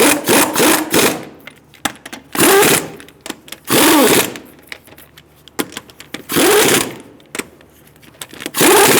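Lug nuts are run up on a 2014-2018 Subaru Forester front wheel in a garage. A power tool gives several short, loud bursts with quiet clicks and handling noises between them.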